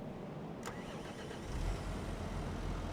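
In the Farming Simulator 25 video game, a tractor engine starts with a quick click, then a low mechanical rumble that swells and settles into a steady idle, faint and heard alone without talk.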